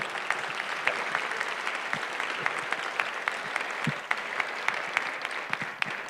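Sustained applause from a conference panel audience in a hall, a dense steady patter of many clapping hands with a few sharper individual claps standing out, moderately loud and continuous with no talk.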